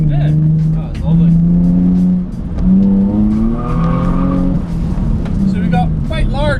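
A Nissan 350Z starter drift car's engine revs and climbs through gears, a loud droning roar with rising and falling pitch, under excited talk from the people inside.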